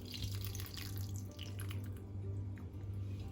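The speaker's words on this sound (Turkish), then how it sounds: "tuz limonun suyunu ekliyorum." Lemon juice is squeezed over a broccoli salad with pomegranate, giving faint wet drips and trickles over a steady low hum in a quiet kitchen.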